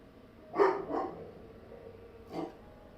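A dog nearby gives two quick, yippy barks, then a third bark a moment later after a short pause. Each bark is sharp and moderately loud over a quiet room.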